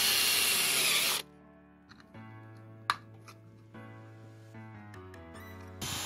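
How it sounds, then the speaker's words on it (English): Power drill boring a hole for a cable gland in a homemade bathroom electric window opener, a steady close whine in several bursts that shifts pitch as the bit bites, with brief clicks between them. "I'll just drill one out."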